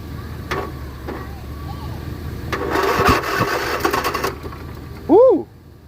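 A Husqvarna lawnmower with a Briggs & Stratton engine cranks in repeated bursts as it tries to start, then a voice whoops loudly near the end.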